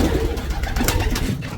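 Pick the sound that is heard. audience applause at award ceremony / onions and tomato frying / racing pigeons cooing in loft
racing pigeons cooing in loft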